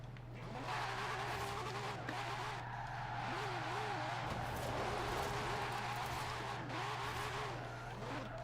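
Acura drift car in the Forza racing game, a steady droning engine with wavering tire squeal and skidding throughout, moderately loud and continuous.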